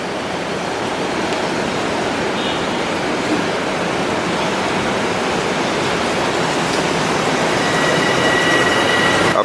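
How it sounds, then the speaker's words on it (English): A continuous loud roar of an elevated train rushing past in Harlem, New York City, steady and rumbling for several seconds, with faint high squeals from the rails. "whenever that train passes"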